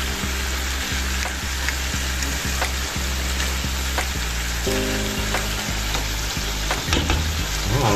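Beef salpicao sizzles loudly in a hot pan, a bright, steady crackle broken by regular scrapes and clinks of a utensil stirring the meat, close and without talk.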